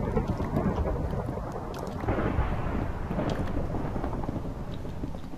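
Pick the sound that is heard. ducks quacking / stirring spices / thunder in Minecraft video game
thunder in Minecraft video game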